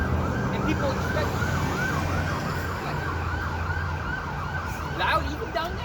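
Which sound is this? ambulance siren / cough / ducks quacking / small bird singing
ambulance siren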